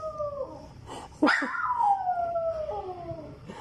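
A dog howls in response to a doorbell with long, wavering, falling wails, plus a short sharp yelp in the middle. It is fairly close, with no voices.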